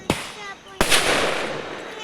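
Firecrackers burst during Vishu celebrations in a village, with two loud sharp bangs close by and a lingering rumbling echo after the second.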